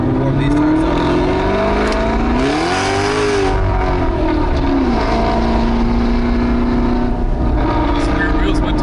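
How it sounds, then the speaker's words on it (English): A Shelby GT500 engine revs hard and steadily, rising and falling in pitch while warming its wide 315 tires, loud and close throughout, with people talking over the engine. "we're gonna have to warm these tires up a little."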